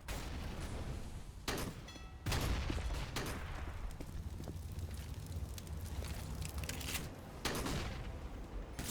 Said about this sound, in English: I love the sounds coming out of that Mag 7 on Deviant.